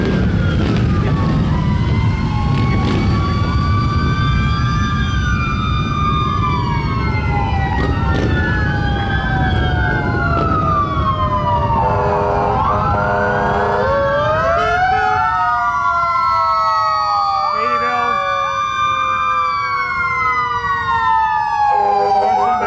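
Ambulance siren from the Morrisonville ambulance in an Honor Flight procession passing under a flag held by aerial ladder trucks on the way to the airport, with several overlapping wailing sirens sweeping up and down continuously over rumbling vehicle traffic, loud and close.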